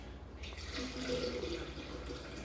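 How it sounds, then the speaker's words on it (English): Water pours into a container, a soft, steady trickle and splash of liquid, fairly quiet and with no talk. "Now we're gonna put the water inside of this."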